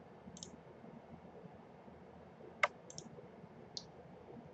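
A computer mouse clicks a few times while working in a spreadsheet solver, giving sharp, faint, isolated clicks against a quiet room.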